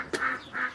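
A Muscovy duck gives two raspy, breathy quacks close by, each drawn out, with a short pause between them and no other sounds.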